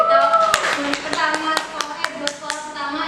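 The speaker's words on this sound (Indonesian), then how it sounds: "Tepuk tangan dong" An indoor audience of visiting high school students claps in a sparse, irregular patter of separate hand claps, with voices talking underneath.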